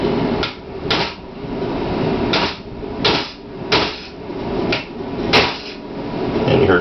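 A transmission pump bushing is hammered into its seat during a C-6 high-performance transmission build: a run of loud, sharp metallic blows at an uneven pace, close up, with no talk.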